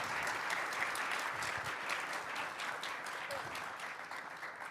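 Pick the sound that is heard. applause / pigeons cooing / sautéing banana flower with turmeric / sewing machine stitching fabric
applause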